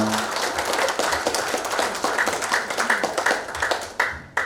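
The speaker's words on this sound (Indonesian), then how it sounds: "Tepuk tangan dong buat kita semua." An audience at a hand tool product launch event claps, with dense overlapping clapping fading into scattered sharper individual claps toward the end.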